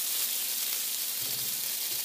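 A soft, steady sizzle of kefir flatbreads frying in a hot pan, a faint hissing crackle with no voices.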